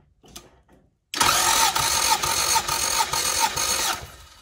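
A car engine cranks during a wet compression test on cylinder four, a brief faint click followed by a loud, rapid rhythmic churning of the starter turning the motor over, close and steady for a few seconds.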